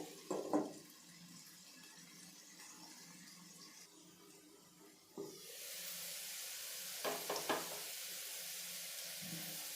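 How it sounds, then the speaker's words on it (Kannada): Potato and pea vegetable chops frying in a covered pan on low heat, a soft sizzle that swells into a steady louder hiss partway through, with a few brief clinks of the lid or spatula. "ಸಣ್ಣ ಉರಿ ಇಟ್ಕೊಂಡು ಫ್ರೈ ಮಾಡ್ಕೋಬೇಕು"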